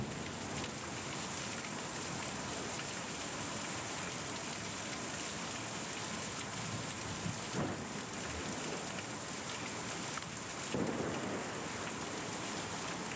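Steady rain pours down as a dense, constant hiss, broken by two brief thunder cracks and rumbles partway through, with no voices present.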